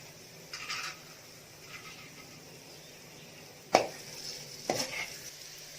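Gentle sizzling of two eggs frying in a hot pan for puffed rice upma, with a few sharp scraping clinks as a utensil stirs them, quiet and close.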